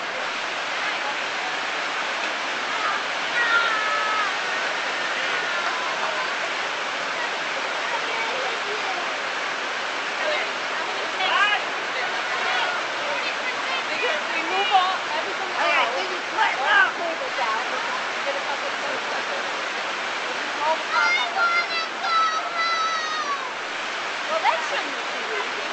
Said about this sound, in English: It's some pretty serious rain here.